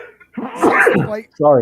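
A single brief sneeze bursts out in the middle of a sports podcast conversation about UFC fights, quickly followed by a short spoken apology as the talk carries on.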